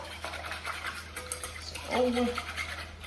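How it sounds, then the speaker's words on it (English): A spoon stirs a sauce of flour, butter and milk in a bowl, giving soft scraping and swishing sounds at close range with a brief clink of utensil on the bowl. "give that a good stir, because you want all of the flour and all of the butter to be absorbed into the milk"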